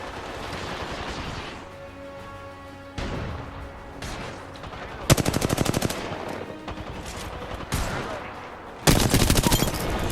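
Gunfire in Apex Legends: several bursts of automatic weapon fire, loud and close, separated by brief pauses, with the heaviest volleys toward the middle and end.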